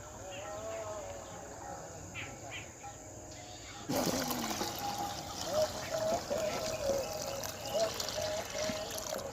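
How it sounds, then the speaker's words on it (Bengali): Water mixed with organic fertilizer poured from a bowl onto young garden plants in a village; after a quiet stretch with faint crickets, a sudden splashing pour starts midway and continues up close. "এই যে এক বাটি করে জলের সাথে গুলিয়ে দিয়ে দেওয়া হচ্ছে।"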